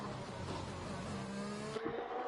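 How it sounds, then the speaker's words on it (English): Front-right tyre locking under braking at turn 9 during a Formula racing game session at the French Grand Prix: a steady engine drone with a thin tonal squeal, then a sudden drop as the car slows. "A little bit of locking there for the front right as he went through turn 9."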